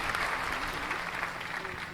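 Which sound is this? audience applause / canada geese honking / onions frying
audience applause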